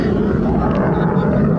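Roar of an F-16 fighter jet during a military airshow demonstration at Skrydstrup, Denmark, a loud, steady engine drone filling the whole moment with no break.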